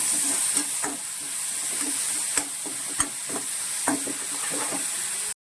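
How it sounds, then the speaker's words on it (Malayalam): Dried shrimp fry in a hot pan with a steady sizzle, broken by several sharp clicks and taps of a utensil stirring. "ചെമ്മീൻ കൂടി നന്നായിട്ട് ഇത് വറുത്തെടുക്കാം"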